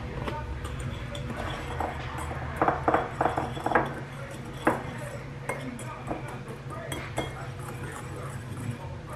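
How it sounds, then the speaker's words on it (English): Batter is whisked in a bowl for keto baking, and the whisk makes repeated clinks and taps against the bowl's side, with bursts of quick metallic chinking over a low room hum. "we're just gonna whisk this together"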